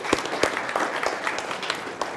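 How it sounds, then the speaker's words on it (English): Audience at a science cafe talk clapping, with a few distinct loud claps standing out from a moderate, fairly thin round of applause. "I think they all deserve a round of applause"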